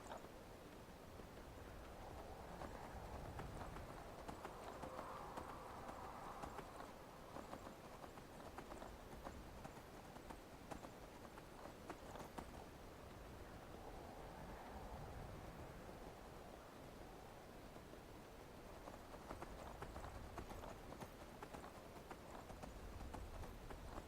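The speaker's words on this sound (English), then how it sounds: "you can summon a horse, which that's my favorite horse" Summoned horse's hooves clip-clopping steadily in Skyrim, a continuous moderate trot over a windy outdoor ambience, with no talking.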